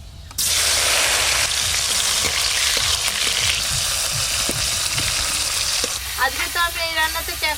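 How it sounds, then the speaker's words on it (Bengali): Chopped tomatoes and whole garam masala hit hot oil with a sudden loud hiss that settles into steady sizzling and crackle, with a few stirring knocks and a voice-like sound near the end. "ফোড়নে গোটা গরম মশলা দেব এবার দেব টমেটো কুচি"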